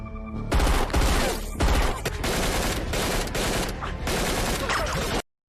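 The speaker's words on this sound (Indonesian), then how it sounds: "terjadilah baku tembak antara mereka" Rapid, loud bursts of gunfire crackle in dense volleys for about five seconds, then cut off abruptly.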